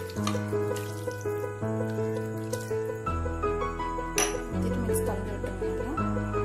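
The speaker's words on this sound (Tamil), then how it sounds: "தேவையான அளவு தண்ணி நான் ஆட் பண்ணிட்டேன்" Water pours steadily into a pan of potato masala, a continuous trickling splash with light clinks, heard up close over faint background music.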